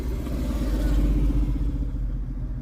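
Motorcycles ride past on a road, a loud, steady engine drone with a brief swell of revving that fades slightly toward the end.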